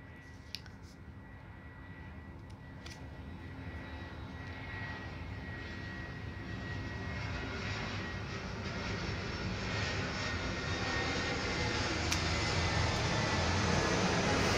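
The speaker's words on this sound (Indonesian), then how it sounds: "ada pesawat lewat ya." An airplane passes overhead, its broad roaring engine noise swelling steadily louder over about fifteen seconds, with a few faint clicks nearby.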